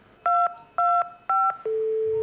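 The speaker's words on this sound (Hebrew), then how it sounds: "טלפון" A telephone number is dialed in a hospital operating room: three short, evenly spaced dual-pitch keypad beeps, then a longer steady tone, clear and close.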